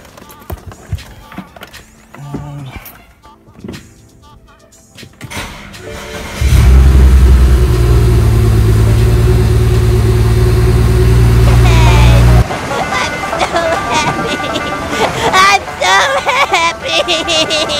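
A BMW 335i with a swapped-in N54 engine cranks and fires for its first start, then settles into a loud steady idle with revving. It is close and strong. Quieter clatter and handling noise come before and after the run.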